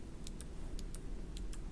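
Sparse, quiet computer keyboard keystrokes during a React coding lesson, about six light clicks spread irregularly over a steady low room hum, with no talking.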